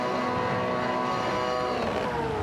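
Several GT race car engines in a racing video game rev up together on the grid at Watkins Glen before the lights go out, a loud, steady, dense engine drone with rising pitch and no talk over it.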